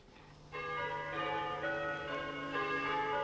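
Church bells peal in a rural Irish village, several bells ringing together in a sustained, layered clang that starts abruptly and continues steadily, fairly loud and alone.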